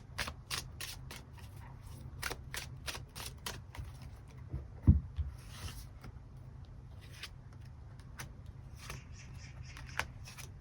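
Tarot cards shuffled for a love-fortune reading, a steady run of crisp riffling clicks and flutters close by, with one sharper slap near the middle and the shuffling carrying on to the end.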